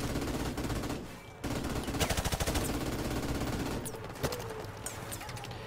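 Gunfire in Call of Duty Modern Warfare Remastered, loud and dense, with a rapid automatic burst mid-clip over a constant battle din of overlapping shots.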